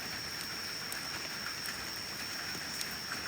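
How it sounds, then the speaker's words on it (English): Steady rain falls outdoors in the wild, an even hiss of drops with a faint constant high tone, no voices. "it is raining"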